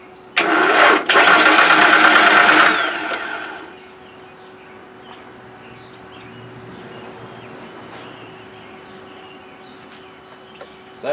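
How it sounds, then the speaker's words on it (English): A 1995 Nissan engine cranks in a loud burst of just under three seconds without catching, then stops, leaving a quiet hum and faint scattered clicks. "let's see if it'll crank now"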